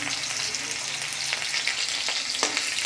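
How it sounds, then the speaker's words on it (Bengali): Potatoes fry in a pan, giving a loud, continuous close-up sizzle with a few sharper spits and crackles, no voices. "তো আলুটা দিয়ে দিলাম, আলুটা একটু ভাজা ভাজা হয়ে যাবে"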